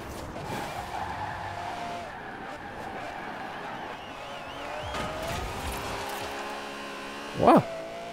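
A car in the racing game Forza Horizon 4 brakes hard into a curve, its engine drone and tire skid running steadily over several seconds before a short, louder burst near the end.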